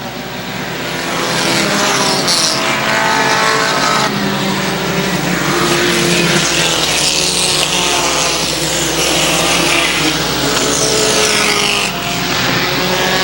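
Dirt modified race cars roar around the track at Airborne Speedway in Plattsburgh, New York, a loud, continuous wall of engine noise with cars sweeping past close by, without any talk.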